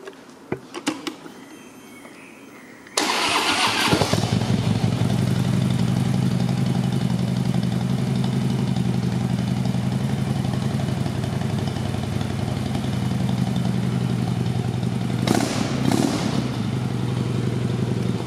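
A fully equipped touring motorcycle with crash bars, large windscreen, spotlights, footboards and saddlebags starts up after a quiet moment, then settles into a steady, loud, close idle with a low rumbling throb and a brief blip near the end.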